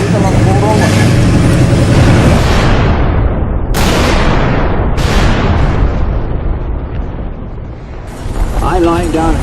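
Artillery and 4.2-inch mortar barrage in Normandy, 1944, a loud, continuous roar of blasts with sharp detonations cracking through and a voice talking over the din.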